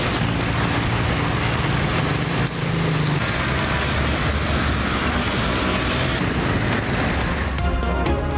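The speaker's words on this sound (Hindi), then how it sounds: "इस्लामाबाद के मुख्तलिफ इलाकों में बादल जमकर बरसे" Heavy rain falling across Islamabad, a dense, steady roar of downpour that stays loud and unbroken throughout, with no voices.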